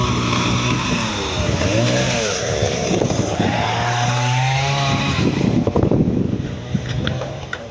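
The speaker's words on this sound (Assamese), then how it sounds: "যে ইয়াত তো আগত গছ কাটি আছে চাগে" A chainsaw cutting trees roars steadily nearby, its engine pitch rising and falling as it works, loud and continuous throughout.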